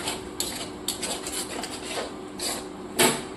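Spiced masala with yogurt is stirred in a pan, with irregular scraping strokes and soft clinks of a utensil against the pan, close and fairly quiet.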